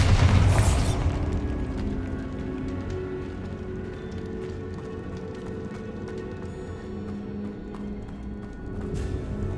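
A Bombarda blast spell goes off in a cave in Hogwarts Legacy, one loud booming burst at the start that rolls into a low rumbling decay, with faint mechanical rattles and a louder swell near the end.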